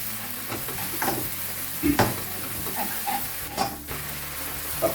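Chicken frying in a pan with pepper, salt, coriander powder and cumin powder, a soft continuous sizzle broken by a few stirring scrapes and clinks, close and steady with no talk.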